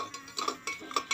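Metal utensil scraping and clinking against a pressure cooker while stirring puffed rice, short bursts of a few stirring strokes close by with no voices.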